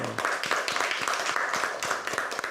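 A church congregation applauds at the close of a sermon on the twelve apostles: steady, dense clapping from many hands fills the whole moment at moderate loudness, with scattered sharper claps standing out.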